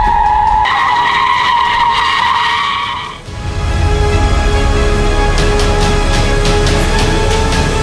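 A 2020 Jeep Gladiator Sport 4x4 skids with loud tire squeal for about three seconds, then the squeal cuts out and a rumbling engine and rough roll take over, close and loud.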